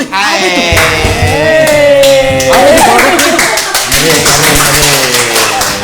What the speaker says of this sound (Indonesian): Kenapa tepuk tangan ini?